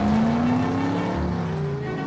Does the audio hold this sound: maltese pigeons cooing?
no